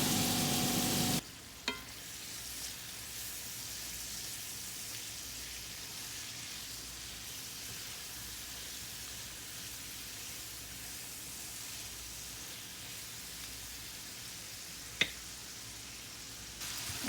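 Squash and peppers fry in a pan with a steady, even sizzle that holds for the whole stretch, broken only by a couple of faint clicks.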